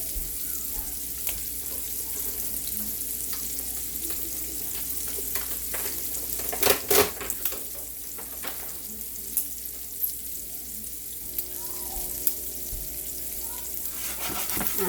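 Shrimp and spinach sizzle and stir fry in a hot pan, a steady close crackling hiss with a few clanks and stirring knocks mixed in, with no talk.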